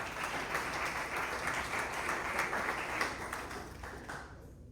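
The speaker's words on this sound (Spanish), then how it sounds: "De una ofrenda de palmas al Señor con todo el corazón" A church congregation claps steadily as an offering to the Lord, dense sustained applause that carries on for several seconds before thinning slightly at the end.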